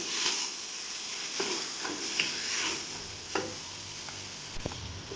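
Ground spices being dry-roasted and stirred in a pan for beef nihari masala, with soft scraping and stirring strokes and light sizzling at moderate distance, no voices.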